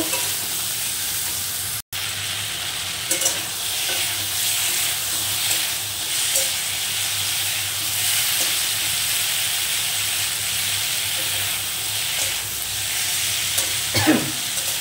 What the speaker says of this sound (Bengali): এবার তরকারিটাকে আমি সুন্দর করে একটু কষে নেব।